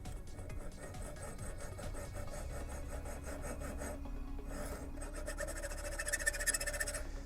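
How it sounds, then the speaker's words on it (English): A regular hacksaw cuts through a clamped pipe with steady, close rasping strokes that run continuously and grow slightly louder toward the end, with no talk. "a regular old hacksaw works just fine"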